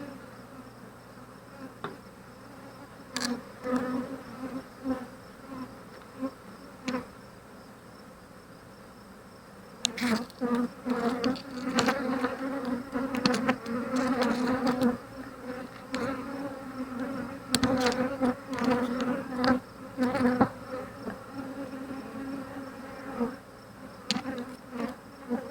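Honey bees buzz around an open Flow Hive during an inspection, a soft droning hum that swells in irregular close passes with occasional knocks from handling.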